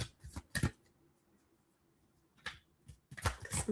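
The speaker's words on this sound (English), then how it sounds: "I'm going to do one more shuffle" A deck of cards being shuffled in quiet bursts: two short riffles near the start, a pause, then a longer flurry of shuffling toward the end.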